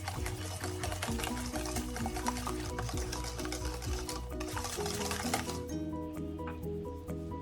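Milk pours into a bowl for caramelized apple French toast batter, a continuous liquid stream with a rising, filling tone and faint clinks, ending abruptly.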